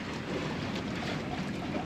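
Sailboat under jib with the engine off, a steady low rush of wind and water against the hull with buffeting wind noise on the microphone and no voices.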